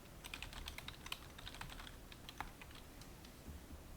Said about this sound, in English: I type in like thanks for watching or whatever you want to put in